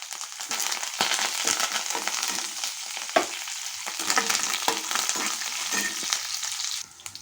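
Coriander seeds and curry leaves with dried red chilies frying in a pan, a continuous crackling sizzle with occasional stirring scrapes, cutting off at the end.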